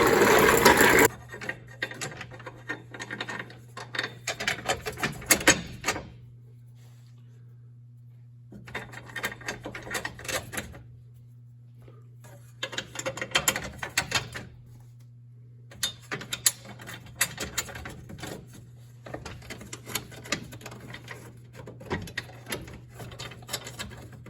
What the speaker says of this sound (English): Slowly start to tighten all the bolts up.